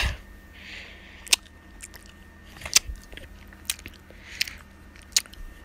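Carrots are bitten and chewed close to the microphone, giving a series of sharp, crisp crunches spaced about a second apart with soft chewing between them.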